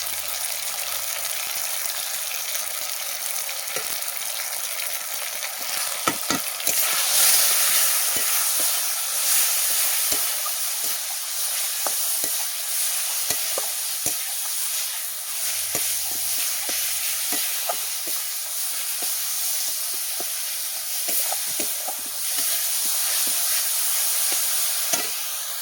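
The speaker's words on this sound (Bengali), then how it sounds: "অল্প একটু পানি দিয়ে মশলাটাকে কষিয়ে নেব।" Spices with salt, turmeric and chilli powder stir-fried in a pan with a little water, a continuous loud sizzle and hiss broken by repeated scraping and stirring clicks, close up with no talking.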